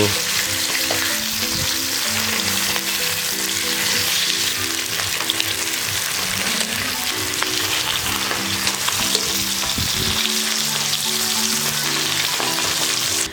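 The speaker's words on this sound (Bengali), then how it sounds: "মাছগুলোকে দুটো সাইড ভালো মতন ভেজে নিয়েছি" Rohu fish pieces frying hard in oil in a pan in a village kitchen: loud, continuous crackling sizzle up close, with occasional stirring or turning sounds and a tonal hum underneath, no voices.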